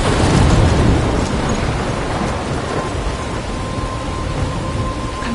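A heavy thunderstorm with steady, loud rain and deep rolling thunder fills the scene in Life is Strange, a dense continuous roar with no voices.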